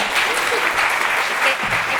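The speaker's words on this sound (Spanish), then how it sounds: "Por favor, un aplauso" An audience applauds at a literary book presentation, a dense, steady clatter of clapping hands that stays loud and close from start to finish.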